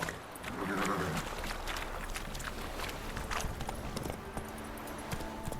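Roach the horse gallops in The Witcher 3, a steady rhythmic clip-clop of hooves at close range under ambient game sound, with a faint brief neigh-like cry near the start.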